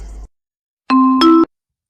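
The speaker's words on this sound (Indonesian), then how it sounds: "suara bel menandakan jam pertama sudah dimulai" A school bell chimes to mark the start of the first lesson: a clean two-note electronic ding-dong, loud and close, following a brief sound and then silence, with nothing else around it.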